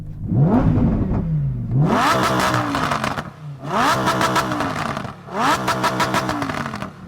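A powerful Lamborghini V10 engine revs hard three or four times, each sharp climb rising to a loud scream before dropping back to idle.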